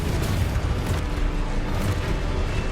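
Blasting-curse explosions from Confringo spells in Hogwarts Legacy give a dense, continuous roar of booming bursts that stays loud from start to end.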